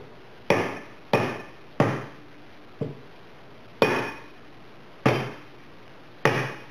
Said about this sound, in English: give it a little tap on the end of the axle